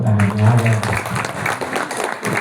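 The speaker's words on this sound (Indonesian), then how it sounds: "Tepuk tangan ya." A voice speaks briefly, then a crowd breaks into clapping that continues as scattered, fairly loud applause.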